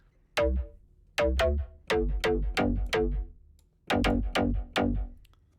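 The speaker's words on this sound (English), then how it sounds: "4 to the floor EDM track had bass lines with a sound like this." A punchy electronic bass line from a four-to-the-floor EDM track plays repeated plucked notes in short groups with quick decays and deep low end, loud and alone.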